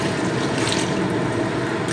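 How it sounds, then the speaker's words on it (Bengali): Water poured steadily into chili chicken in a pan, a continuous close rushing splash of liquid lasting the whole moment, with no talk. "এইবারে আমি জল দিয়ে দেবো।"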